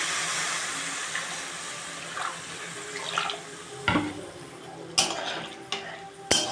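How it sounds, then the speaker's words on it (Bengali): Water poured into an egg curry simmering in a pan, a steady broadband wash running throughout with a few sharper splashes or clinks near the end, close and moderately loud. "এবার রান্নাটার মধ্যে জল ঢেলে দেওয়া যাক।"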